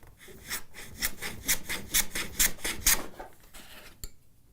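Walnut workpieces have their edges chamfered with a hand tool in a workshop, making about a dozen quick, close rasping strokes in a steady rhythm, then a sharp knock and a quiet tail.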